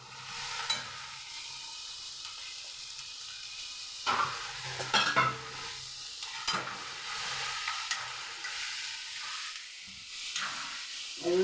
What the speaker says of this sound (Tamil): பீட்ரூட்டு போடுறேன்.